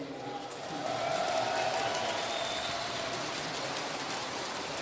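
Esports crowd at DreamHack Jönköping during a StarCraft 2 match, a steady wash of cheering and applause that swells after the first second and holds loud, with a voice faintly audible over it.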